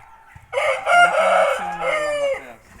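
A rooster on a small poultry farm crows once, a loud close drawn-out call lasting about two seconds, with faint background noise before and after.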